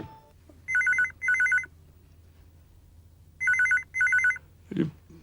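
Telephone ringing in two double bursts of bright trilling bells separated by a quiet pause, loud and close, followed by a short clatter.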